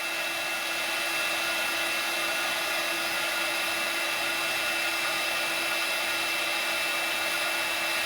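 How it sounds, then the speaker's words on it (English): A heat tool drying and melting embossing powder on a winter coffee mug craft blows a continuous, even whir close by, with no talk over it. "You have to dry it a bit longer so that the embossing powder melts."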